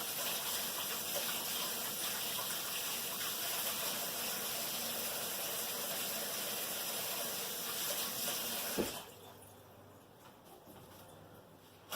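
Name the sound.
washing hands under running water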